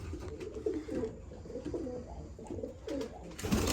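Several pigeons coo repeatedly in low, throaty, overlapping calls at a pigeon stock loft, fairly close, with some rustling and a brief clatter near the end.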